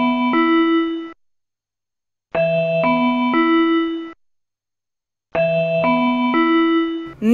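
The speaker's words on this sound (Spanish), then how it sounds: "Se trata de las pruebas del sistema de alerta temprana ante posibles tsunamis y desbordamientos de represa SAT" Test tone of the SAT tsunami and dam overflow early warning alert system: a loud chime-like multi-note signal sounds three times at regular intervals, separated by silence.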